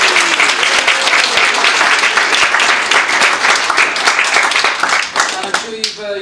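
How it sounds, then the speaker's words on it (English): Wedding guests give the bride a big round of applause during the best man's speech, dense and loud steady clapping from a full room that thins slightly near the end, with some voices mixed in. "so can we please have a big round of applause?"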